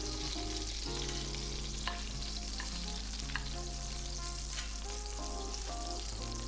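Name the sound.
beef short ribs sizzling in a Dutch oven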